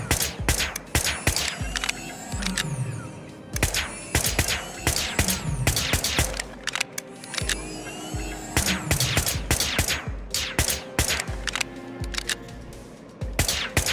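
Repeated gunshots in the video game Whispers of a Machine crack out in uneven clusters of sharp, loud reports. Quieter gaps and faint background hum fall between the bursts.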